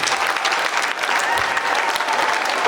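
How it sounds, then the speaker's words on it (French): Ceremony audience applauding steadily at a school consecration event for peace ambassadors, a dense continuous wash of clapping throughout with faint voices mixed in. "Applaudissons pour eux"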